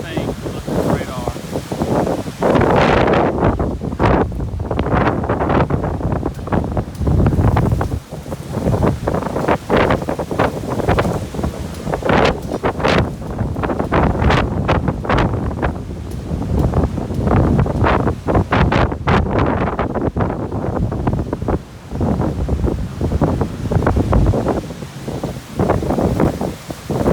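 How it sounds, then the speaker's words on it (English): Strong gusting wind during Hurricane Zeta in Gulf Shores, Alabama, roaring loud and close against the microphone in surging waves that never let up, with a voice briefly heard under it. "Mainly wind."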